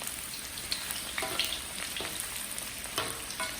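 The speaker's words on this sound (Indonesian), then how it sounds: "Nah ini lanjut mau saya goreng dulu" Sliced garlic and shallots fry in a pan with a steady, close sizzle and crackle, broken by a few brief stirring scrapes and spatters, with no voices.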